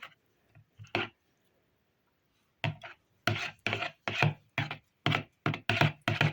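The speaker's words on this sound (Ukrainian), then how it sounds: "І додаю цукор, сіль і соду. Все гарно перемішую." Egg yolk, sugar, salt and soda are mixed in a bowl with a spoon, producing a series of sharp, rhythmic scraping strokes after a few tentative taps and a short pause.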